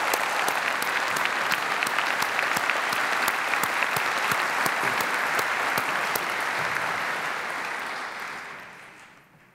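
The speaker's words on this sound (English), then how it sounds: "I think you've got to give him a very warm clap," Sustained warm applause from the audience at the 2014 International Children's Peace Prize ceremony, a dense steady clatter of many hands that holds loud for several seconds, then fades out near the end.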